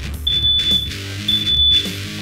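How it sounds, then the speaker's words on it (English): A smoke detector shrieking after a kitchen stovetop grease fire: two loud, sharp, high-pitched beeps about a second apart over a low background hum. "There's the smoke detector."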